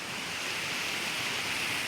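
Water running through a channel at the Rajarajeshwari temple near Murdeshwar, a steady, close, unbroken rushing hiss with no voices over it.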